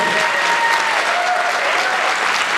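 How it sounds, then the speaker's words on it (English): Audience applause at a jazz camp concert for the performers and a soloist, a continuous, full wash of many hands clapping, loud and steady throughout, with faint vocal cheers mixed in. "One more round of applause for Rory and our soloist Lucas."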